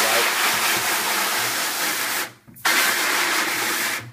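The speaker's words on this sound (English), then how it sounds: "I'm just going to give it a light spray." Continuous hissing water spray washing a screen-printing screen, close and loud, cut off briefly once before resuming; a voice can be heard speaking underneath.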